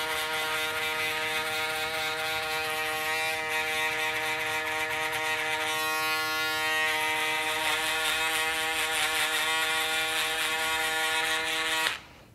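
An electric shaver buzzes steadily and close while fading curly hair during a haircut, a continuous whirring drone that holds for about twelve seconds before switching off abruptly.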